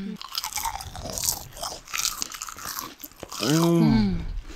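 Crunchy bites into an air-fried geprek chicken nugget, a run of crisp close-up crunches and chewing sounds, fairly quiet, with a brief voiced sound near the end.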